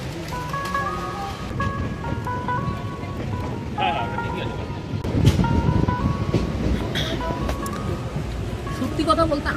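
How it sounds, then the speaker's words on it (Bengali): A superfast express train travels from Muri towards Howrah, its steady rumble and rattle running throughout from inside a non-AC coach, with a few tonal whines and clanks and voices talking over it. "এখন আমরা ট্রেনে জার্নি করব, ঠিক তো? ফাইনালি আমরা মুড়ি ছেড়ে এখন হাওড়ার দিকে রওনা দিয়েছি।"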